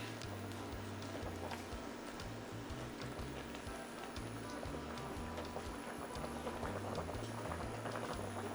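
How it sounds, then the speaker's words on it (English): A pot of Jamaican curry oxtail bubbles and burbles at a steady simmer, with a low, uneven rumble and a constant hiss. "Now the pot is boiling."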